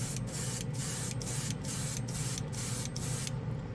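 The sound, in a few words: airbrush compressed air blowing to dry paint on plastic model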